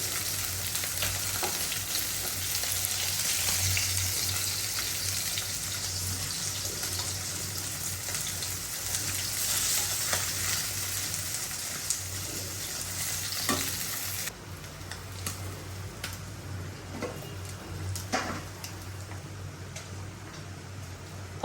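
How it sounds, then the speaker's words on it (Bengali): Fish curry cooks in a pan after fried fish and water go in, giving a steady sizzle and bubbling with scraping stirs that softens partway through. No one speaks. "আর ওই কষাইয়া জল দিয়ে দিলাম, মাছগুলো আমি দিয়ে দিব, ভাজা মাছগুলো"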